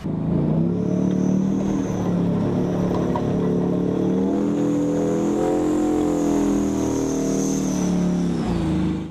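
Engines of military combat vehicles, just brought back from storage, rev loud and close, a thick low roar that rises and falls in pitch with a whining overtone before cutting off at the end.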